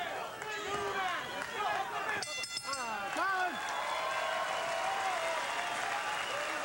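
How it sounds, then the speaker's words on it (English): A boxing crowd cheers and applauds, a broad wash of claps and voices under a commentator's talk, rising and falling while whistles and shouts cut through. "there's no doubt a crowd like this, and they're cheering for both guys"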